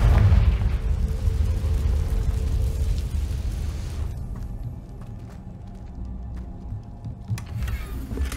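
A blast from the Confringo fire spell in the Hogwarts Legacy video game, opening with a loud rumbling burst that fades into a low, lingering roar with faint sparkling effects.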